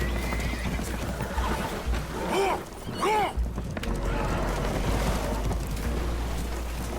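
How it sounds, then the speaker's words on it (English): Spooked horses in Red Dead Redemption 2, aboard a damaged boat taking on water, let out two sharp, close whinnies in the middle of a dense rumble of wind and churning noise, with hoof clatter and faint talk in the background. "Horses are spooked"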